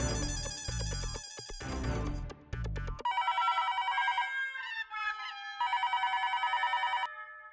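A telephone rings on an outgoing call in a repeating electronic ringback pattern that sounds clear and close, with a short burst of music playing just before it.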